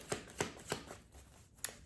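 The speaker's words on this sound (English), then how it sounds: "I want to make sure I really shuffled them." A deck of cards is shuffled up close in quick riffling bursts, three evenly spaced flicks followed by a pause and a final snap, fairly quiet with no talking.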